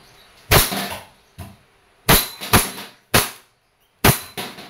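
A WE Hi-Capa T-Rex airsoft pistol fires single semi-auto shots, sharp loud cracks spaced irregularly, some in quick pairs, with short echoing decays between them.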